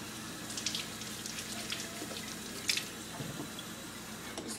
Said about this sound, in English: Just give them a quick rinse to get the preservatives off.